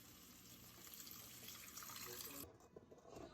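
Water pours steadily into a pot for a couple of seconds, then stops, leaving faint splashes and clinks.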